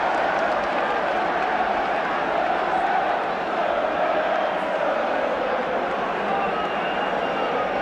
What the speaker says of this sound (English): Arsenal supporters applaud